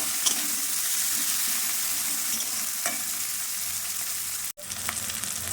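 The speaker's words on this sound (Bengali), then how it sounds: "পেঁয়াজগুলি আদা ভাজা হয়ে এসেছে" Onion and ginger sizzle in a pan for a Bengali koi fish curry, a constant near frying hiss with occasional stirring scrapes and a brief break near the end.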